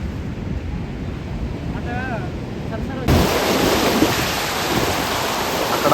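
Ocean surf rolls in steadily at Mypadu Beach in Nellore near fishing boats, a continuous broad wash with wind buffeting the microphone that swells louder halfway through, while a voice briefly speaks over it.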